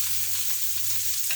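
Onion and sweet pepper frying in vegetable oil, giving a steady, even sizzle with a low constant hum underneath and a faint clink near the end, with no voices.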